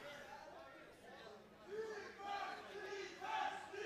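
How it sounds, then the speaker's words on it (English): A crowd in Bishkek, Kyrgyzstan chants for Uzbekistan at a tournament final, a loud sustained rhythmic chant rising and falling with shouted voices over general crowd noise. "There are calls for Uzbekistan coming from the crowds in Bishkek, Kyrgyzstan."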